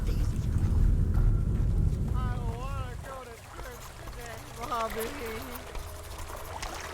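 Water pouring into a canteen in the video game Die Young, a loud rushing gush that stops after a few seconds, followed by quieter trickling ambience as a person talks.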